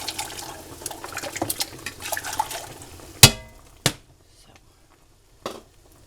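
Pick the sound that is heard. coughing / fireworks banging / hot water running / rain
hot water running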